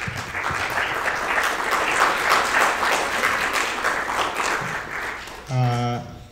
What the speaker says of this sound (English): So if you can all applaud Ibng for this.